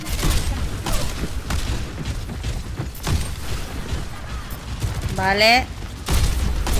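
Rapid bursts of gunfire in an Overwatch 2 match with Junkrat and Widowmaker, repeated shots and booms layered with game effects and music while a player talks over the action.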